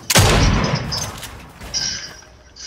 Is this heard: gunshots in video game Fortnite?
yes